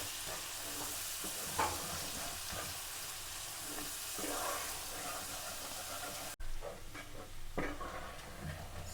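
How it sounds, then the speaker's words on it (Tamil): Garlic sizzles gently in oil over a low flame for garlic pickle, a soft, continuous frying hiss with occasional stirring scrapes and a brief clatter partway through, with no talking. "சின்ன நெருப்பில் வச்சு இது கொஞ்சம் பொன்னிறமாக வர அளவுக்கு இதை எண்ணெய்களை வச்சு இப்படி பதாக்கணும்"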